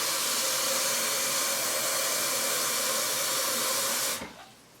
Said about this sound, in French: pour bien le rincer, il faut remplir la casserole d'eau